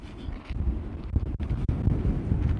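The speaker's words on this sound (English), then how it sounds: "There's a strong gust of wind right here." Strong gusts of outdoor wind buffet the microphone with loud, continuous low rumbling that surges and drops briefly twice, with no voices heard.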